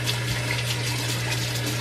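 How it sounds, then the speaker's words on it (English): Warm water runs steadily from a tap for rinsing the face in a bathroom, a continuous close rushing flow with a low pump-like hum underneath, no talking. "I'm just using some warm water."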